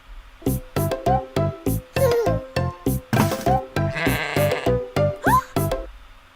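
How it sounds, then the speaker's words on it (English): A distressed sheep bleats over and over in a steady run of loud, close cries as a child approaches to handle it. There is no other sound. "clearly this sheep is not happy and trying to get away"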